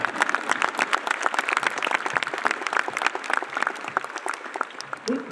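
Audience clapping at a dealer achievement awards ceremony, a dense, sustained round of applause from a large crowd, with faint voices mixed in.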